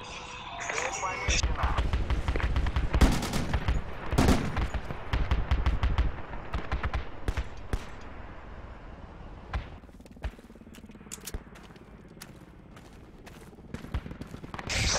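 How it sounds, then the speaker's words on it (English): Heavy weapon fire from a large vehicle, likely an LAV, in the military shooter game Project Reality, with loud repeated bursts and sharp bangs across the clip that thin into scattered shots toward the end. "something big is shooting from the southwest"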